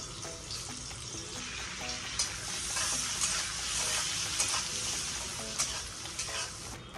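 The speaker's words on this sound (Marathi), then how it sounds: "आता याच्यामध्ये खडे मसाले टाकणार आहेत।" Whole spices sizzle in melted butter and a little oil in a pan, a steady crackling fry with scraping stirs over it, close and fairly loud, no talking.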